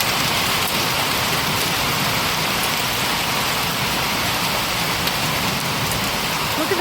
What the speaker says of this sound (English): That's hail. It's not stopping.